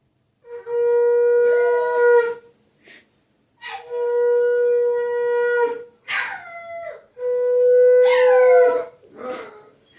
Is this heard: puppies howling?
yes